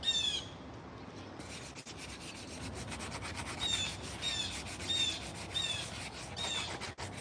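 A blue jay calls in repeated sharp bursts at even intervals over steady scraping and rasping, as if wood is being rubbed or sanded near at hand, with the bird a little farther off.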